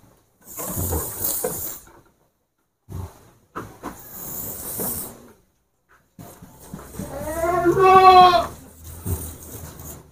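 Young red PE Kaligesing goat kids bleat in short, loud bursts separated by silences, the last cry long and wavering, close by.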